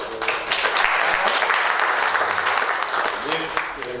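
Dense applause fills the room at an academic nutrition evening at a university, steady and fairly loud throughout, with some voices mixed in underneath.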